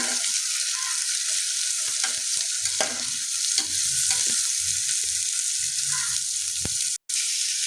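Carrots and beans sauté in a pan for vegetable kurma, crackling steadily while a spoon scrapes and stirs in irregular strokes, with a brief drop-out near the end.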